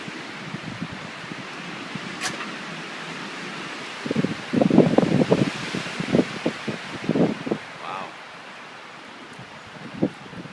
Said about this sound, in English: Wow, really heavy wind.